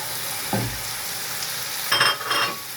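Chicken pieces sizzle steadily in a hot pan, with a brief low thump and two louder bursts of crackling near the end, close and with no voices.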